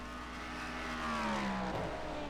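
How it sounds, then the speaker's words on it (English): A racing video game with an LMP2 prototype race car being overtaken: steady engine drone with a high whine that falls in pitch as the other car drops behind, continuous and fairly loud throughout. "Looks like that is the 3rd place LMP2 we just passed."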